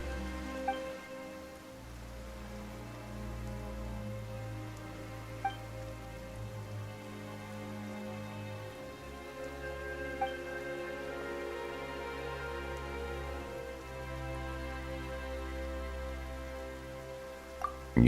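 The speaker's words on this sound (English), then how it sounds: "Why is it raining all of a sudden?" Steady rain patters on surfaces in the Genshin Impact game world, a continuous even wash with a few soft drips and no voices.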